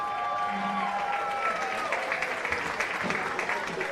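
Crowd of fans at a Cashion high school football game applauding and cheering for the 2023-2024 cheer squad, a steady broadband wash of clapping with a few voices and faint background tones mixed in.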